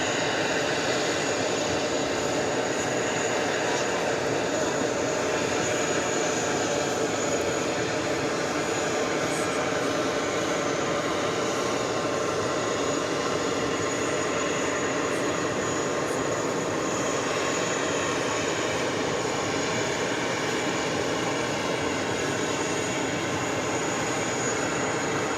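A Boeing 767-300ER jet airliner at New York's JFK airport gives off a steady, distant engine drone that holds evenly across the whole stretch.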